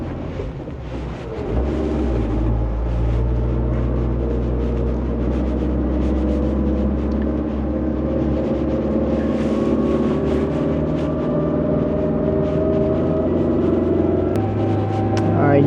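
A vehicle engine labouring uphill on a road in Ethiopia, a loud continuous drone that steps in pitch as gears change, with no talking.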